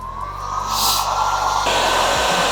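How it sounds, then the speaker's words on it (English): A heat gun blowing hot air to shrink heat shrink tubing over drone antennas, a steady whooshing hiss over a low hum, close and fairly loud, cutting off near the end. "we're gonna heat shrink this down"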